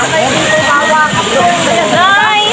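Loud, continuous water sloshing and splashing close by, with bubbly churning throughout and no pauses.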